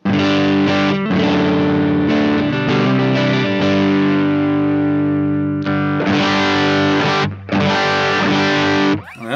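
Electric guitar on its neck pickup through an amp with top boost, for worship playing: loud distorted strummed chords with chorus shimmer, a steady run of attacks, a longer sustained ring, then a few more sharp hits, with no voices.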